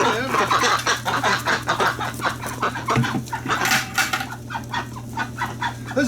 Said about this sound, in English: There's a bunch of white ducks